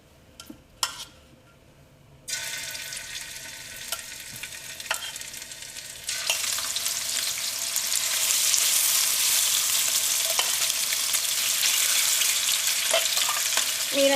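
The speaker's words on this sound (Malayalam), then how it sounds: "ഇനി നമുക്ക് മീൻ വറുത്തെടുക്കാം. മീൻ വറുത്തെടുക്കാനുള്ള എണ്ണ നന്നായിട്ട് ചൂടായിട്ടുണ്ട്." Fish pieces frying in hot oil for fish pickle, a loud, steady sizzle that starts abruptly after a few faint clicks and grows fuller and brighter, with occasional stirring clinks.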